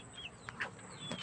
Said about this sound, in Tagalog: Yung mataba akong manok.